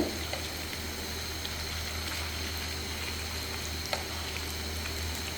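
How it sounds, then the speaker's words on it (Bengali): Luchi and noodle pakoras deep-frying in a pan of oil, a continuous close bubbling sizzle with a couple of faint clinks as pieces are turned. "এই যে আমার লুচির পকোড়াগুলো ভাজা হচ্ছে"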